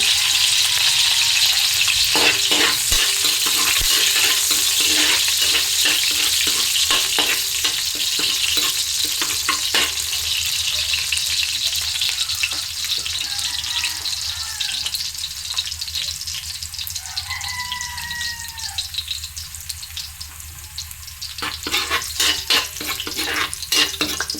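Garlic frying in hot cooking oil in a large wok, a dense continuous crackling sizzle with sharp pops and stirring clatter, close by and loud throughout, with no voices.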